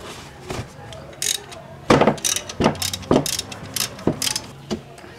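Bolt on the timing belt tensioner of a Hyundai Elantra being loosened with a ratchet, heard as a series of sharp close metallic clicks and clunks in irregular bursts, with brief talk in the background.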